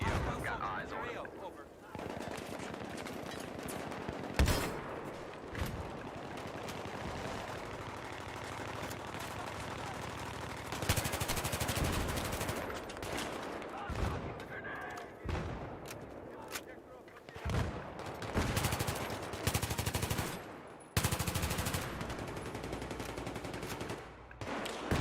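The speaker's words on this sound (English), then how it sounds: "I've got a hostile machine gunner in here." Machine gun fire in Battlefield 3 on PS3, with repeated bursts of rapid gunshots and loud blasts running throughout, mixed with continuous game noise and a voice talking over the shooting.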